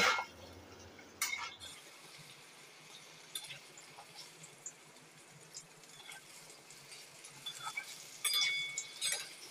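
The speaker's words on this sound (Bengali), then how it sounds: "আলুগুলো দিয়ে একটু ভালো করে ভেজে নেব।" Cut potatoes stirred and frying in a pan for a spice-free potato curry, with soft sizzling and several sharp clinks and scrapes of a utensil against the pan, close and fairly quiet.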